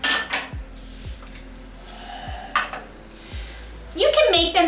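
A non-stick baking sheet and metal utensils are handled while baking chocolate chip cookies, giving several sharp clanks and clinks spaced through the clip, fairly close and loud, with a burst of clattering near the end.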